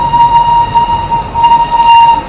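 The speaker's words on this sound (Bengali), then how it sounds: "বেশ ভালো লাগলো টয় ট্রেনের এই হুইসেলটা শুনে। আপনারাও শুনুন।" A Darjeeling toy train's whistle sounds in a long, steady, high tone broken by brief gaps, over the low rumble of the moving train.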